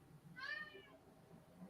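A house cat gives a single short, faint meow against a quiet room background.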